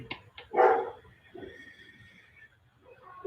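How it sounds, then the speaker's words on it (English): A loud pet dog barks a few sharp times indoors. The barks come in separate bursts, one strong yelp standing out, with quieter gaps between them. "you guys can probably hear my dog. He's loud"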